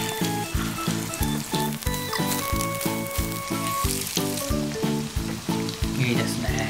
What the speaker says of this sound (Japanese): そしたらですねチキン入れていきます。